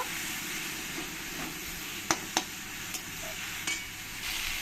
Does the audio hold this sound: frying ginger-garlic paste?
yes